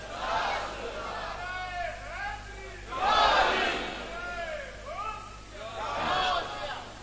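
Large crowd at Golra Sharif shrine gathering chanting a religious slogan in loud call-and-response waves, three swelling bursts of massed voices spaced a few seconds apart, rising and falling in unison.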